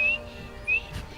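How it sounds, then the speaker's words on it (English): A horse whistle from a Skyrim mod in the video game, heard as two short rising whistle tones, the first a little weaker, with soft background hiss. "Another thing we've got is a horse whistle."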